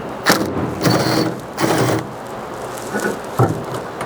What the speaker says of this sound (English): you can take a 10mm socket and remove these 2 screws